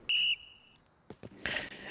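A sharp referee-style whistle blown once to start a word-game round, a loud bright blast lasting about a quarter second, followed by a quieter tail and scattered handling noises and a brief stir of sound.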